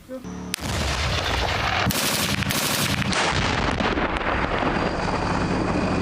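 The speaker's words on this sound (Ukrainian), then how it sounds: "проводили заняття зі стрільби, а саме стрільба з гармати і стрільба з ПКТ" Loud bursts of heavy gunfire from a tank's PKT machine gun rip out at close range during a training exercise, with a sustained rattle and rushing wind noise buffeting the microphone.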